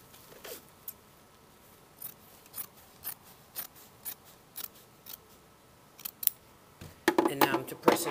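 Scissors snip through fabric at a jacket front dart, making about ten crisp, evenly spaced cuts close by, then a quicker, louder flurry of snips at the end.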